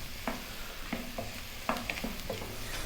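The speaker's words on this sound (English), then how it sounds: "Let's cook those mushrooms down with the onions and the garlic." Mushrooms cooking down with onions and garlic in a pan, a faint gentle sizzle under several light spoon taps and scrapes spaced irregularly, close by and without talk.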